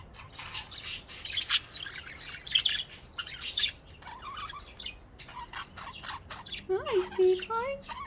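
Close pet bird chirping, squawking and breaking into short rising song phrases, with a person talking softly alongside the calls.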